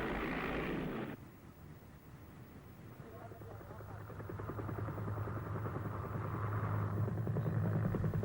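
A Mi-8 helicopter's rhythmic rotor thump and engine drone build steadily after a brief louder noise at the start, with a voice talking over it.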